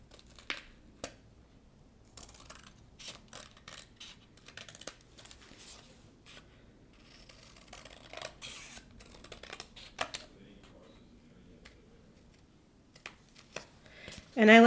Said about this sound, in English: I'm going to open this up a little bit, and then we're just going to trim.